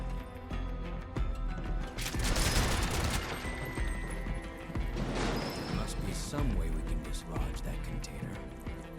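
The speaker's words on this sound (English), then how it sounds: "Barrett's solution to everything, shoot it." Barrett fires his gun in the video game Final Fantasy VII Rebirth, with bursts of rapid gunfire and crashing impacts mixed into busy game sound, and a voice talking over it.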